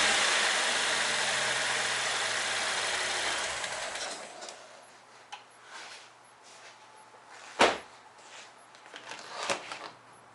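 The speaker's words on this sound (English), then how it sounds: "so I let the engine run just for a few minutes" A Cadillac ATS-V engine idling steadily with a broad mechanical hum that cuts off after about four seconds, followed by quieter scattered clicks and clunks of work under the hood.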